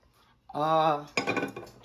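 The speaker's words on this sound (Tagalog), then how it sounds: "So, una na itong buhaton is magtak-ang ta og kaldero." A metal cooking pot is handled in a kitchen, ringing with a sustained metallic clang followed by a clattering jostle of cookware, close and moderately loud.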